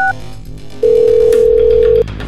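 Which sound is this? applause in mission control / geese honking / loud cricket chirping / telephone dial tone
telephone dial tone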